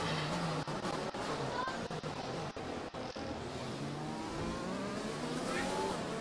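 F1 car engine in an F1 racing game, a continuous buzzing whine that shifts in pitch through gear changes, joined by brief sharp clicks and bumps, with faint speech in the background.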